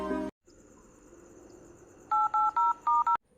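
A phone number dialed on a mobile handset, a run of five or six short, evenly spaced DTMF key tones following a brief burst of sound and a faint background hum.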